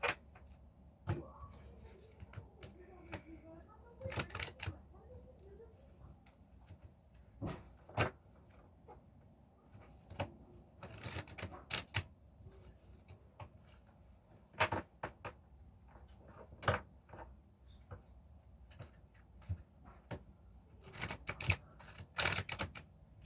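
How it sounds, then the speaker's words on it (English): A deck of reading cards being shuffled by hand gives irregular bursts of crisp, papery snaps and riffles. The sound is fairly faint and recorded up close, with quiet pauses between shuffles and no talking. "When I shuffle them all together, they'll switch around."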